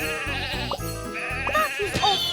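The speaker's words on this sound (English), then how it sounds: "Sheep have wandered onto the tracks." Sheep bleating in a children's train video game, a few short wavering bleats layered over a steady, loud game music track with no talking.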